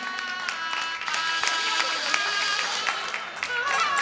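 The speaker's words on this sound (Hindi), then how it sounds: "इनके सम्मान में जोरदार ताली बजाई जाए।" Sustained applause from a crowd honouring the organiser of a Siddhachakra Mahamandal Vidhan ritual, steady dense clapping throughout with voices and music mixed underneath.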